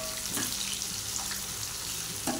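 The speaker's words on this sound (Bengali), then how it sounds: "প্রথম বন্ধুরা একটু নেড়ে ভেজে নিচ্ছি পেঁয়াজটা," Onion frying in oil in a pot, a soft steady sizzle with light scraping as it is stirred now and then, close but fairly quiet, with no talking.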